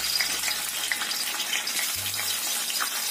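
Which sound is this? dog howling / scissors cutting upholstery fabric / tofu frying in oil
tofu frying in oil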